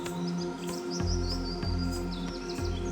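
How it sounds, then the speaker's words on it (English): Birds chirp and tweet in quick, scattered calls over a soft, steady tonal hum. "The birds singing in the distance"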